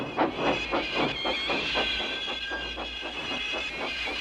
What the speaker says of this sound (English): Thomas pushed and puffed and pushed as hard as ever he could.